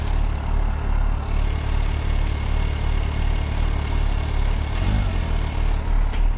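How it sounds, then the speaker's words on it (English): A Kawasaki Ninja H2SX supercharged motorcycle engine idles steadily up close, a continuous low rumble with a brief blip of revs near the end. "First ride on the Ninja H2SX."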